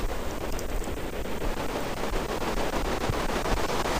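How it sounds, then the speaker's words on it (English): Steady rain falling in a video game, a dense, even hiss of drops that holds at the same level for the whole stretch with no break. "But it's still raining, so that's not much better than night."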